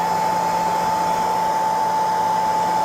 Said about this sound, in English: But, hey, I got a heat gun, so I'm going to use it.